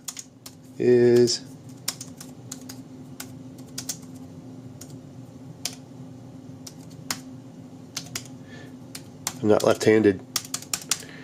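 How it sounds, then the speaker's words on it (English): Quick typing on a Chesona wireless backlit multi-device keyboard, two short bursts of crisp close key clicks separated by a long quiet stretch with a few isolated taps, and a voice speaks briefly between them. "let's just go in and just do a quick little typing test"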